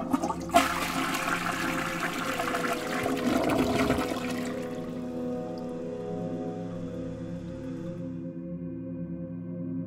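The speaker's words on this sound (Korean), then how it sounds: "분명히 변기물이 내려가는 소리였는데" A toilet flushing in an office restroom at night, beginning with a sharp click and a loud rushing gush of water that drains away, followed by a long quiet tank refill hiss and trickle.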